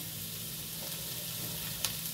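Chopped onion and capsicum frying in oil for a chilli omelette, with a steady close sizzle running throughout and a brief louder crackle near the end.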